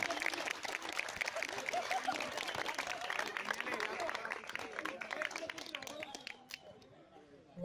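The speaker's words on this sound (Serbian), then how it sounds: "jedan veliki aplauz za Nikolu i Nemanju" A crowd at a civic event in Niš gives sustained applause, dense and even throughout before tapering off at the end, with faint chatter mixed in.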